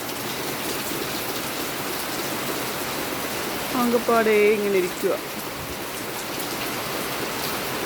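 Heavy rain pours down steadily during a thunderstorm in Kerala, a dense close wash of noise throughout, with a brief voice speaking midway over it.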